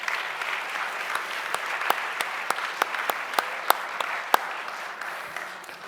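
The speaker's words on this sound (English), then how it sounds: "A round of applause for the board members" An audience applauding board members at a gala show, a sustained, fairly distant crowd of clapping with sharper individual claps standing out, no voices.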